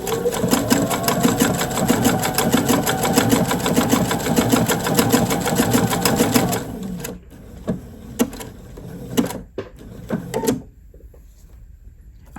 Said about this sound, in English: So what you do is you're going to stitch around the outside edge and catch all your loose edges.